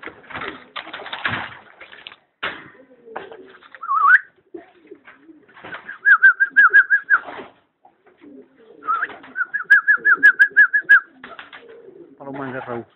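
Pigeons in a loft, one a cross-bred male, coo in two rhythmic, pulsing bursts, fairly close and clear, after a stretch of mixed shuffling and a brief voice at the start.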